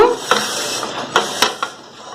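Scraping and wiping strokes across a metal dosa griddle, a few brief rubbing bursts over a faint sizzling hiss.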